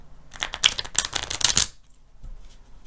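A quick riffle of small tarot cards, about a second and a half of dense, crisp fluttering clicks, close by, then quiet.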